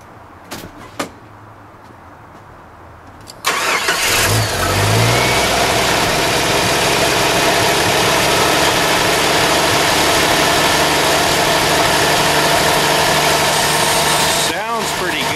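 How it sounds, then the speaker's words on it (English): Engine of a 1989 Jeep YJ cold-started: a few clicks and brief cranking, then the engine catches with a loud burst and settles into a steady, rough, close idle that runs on, with a faint voice briefly heard. "it's time for a greasy, grimy old cold start"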